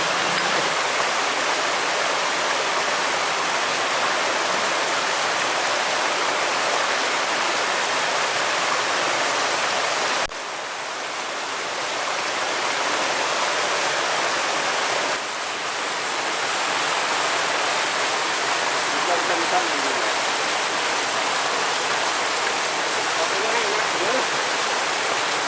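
Tretes waterfall running at low flow in the dry season, heard as a steady broadband rush of falling water, constant and fairly loud throughout with a brief dip partway.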